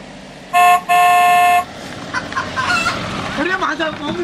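A vehicle horn blares in two loud tonal honks near the start, followed by clucking and crowing chickens and faint background voices.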